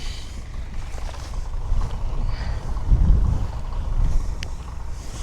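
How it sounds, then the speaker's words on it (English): Strong wind blows across an open farm field during plastic mulch removal, making a low rumbling roar with gusty buffeting against the microphone that swells and fades. "It's super windy today too."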